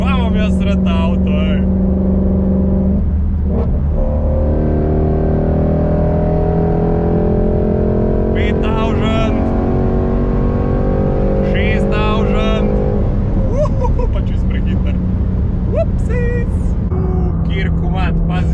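A Yamaha YFZ450 quad engine revs at half throttle up to about 6000 rpm, with loud, sustained rising and falling engine tones close by.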